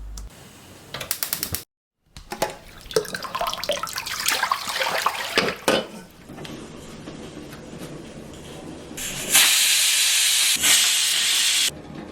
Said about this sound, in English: I will steam the gourd for few minutes